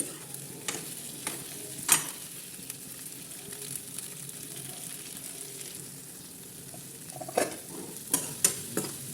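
Overripe okra sizzling in a pan while being stirred, a steady frying hiss broken by a few sharp scraping clicks of the spoon against the pan, close and moderately loud with no talking.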